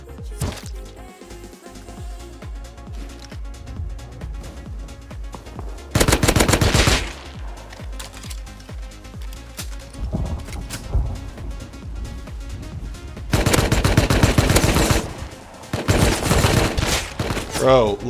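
Bursts of automatic gunfire in the survival video game Rust, two loud sustained volleys separated by quieter stretches of scattered shots and game noise, with a voice talking faintly.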